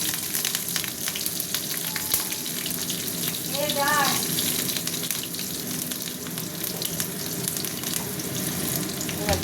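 Dried red chillies and green chillies hit hot oil with sugar in a pan, giving a steady crackling sizzle throughout with a faint chirpy sound in the middle.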